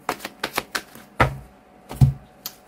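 Tarot cards are shuffled by hand close up: a quick run of sharp taps, then a few louder, more spaced-out slaps and knocks of the deck, with no speech.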